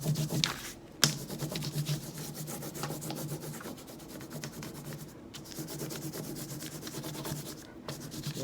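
A crayon rubbed over paper laid on top of a leaf gives close, steady, scratchy strokes that run continuously with slight swells, and no voices are heard.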